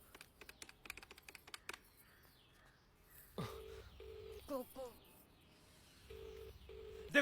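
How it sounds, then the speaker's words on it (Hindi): A telephone is dialed: a series of short, evenly spaced key tones in separate bursts, close and moderately loud, following soft clicking taps, with faint background movement. "दोबारा फोन लगाओ"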